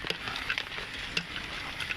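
Steady, dense patter of heavy typhoon rain falling, a constant hiss with scattered drips and splashes, no voices.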